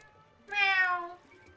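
A single clear cat meow in the video game The Legend of Zelda: Twilight Princess HD, rising then falling, about half a second long, alone against quiet background.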